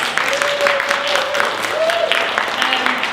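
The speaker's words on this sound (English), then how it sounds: "big round of applause for our international student candidates" Audience applause for international student candidates at a 2018 student union election hustings, a moderate wash of clapping that continues while a voice talks over it.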